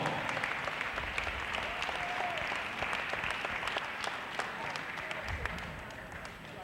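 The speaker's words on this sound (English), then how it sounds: "I'd like to have a nice round of applause for Henry Cataldi." A crowd in a high school wrestling gym claps steadily for several seconds, a broad, continuous patter of many hands with some scattered louder claps and faint voices underneath.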